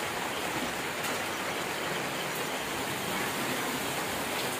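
Rain falling outside a house on a Diwali night, a constant, even wash of dense hissing drops with no breaks, close and moderately loud.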